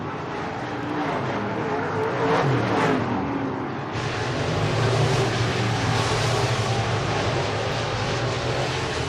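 Race cars roar around the Deep South Speedway dirt track in Loxley, Alabama, a steady, loud wash of engines that swells as the field passes, with no talking.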